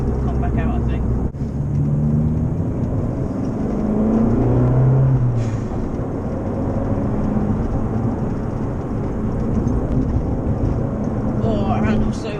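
A steady engine drone from an Abarth 180 competizione driving a lap, with some rises in pitch under acceleration, while someone talks over it almost throughout.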